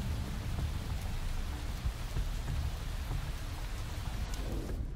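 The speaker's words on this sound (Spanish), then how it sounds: "A ver, está lloviendo mucho muy fuerte." Heavy rain falls during a race in Motorsport Manager, a steady dense hiss of raindrops on a surface that stays loud the whole time, with faint low rumbles beneath and no voices.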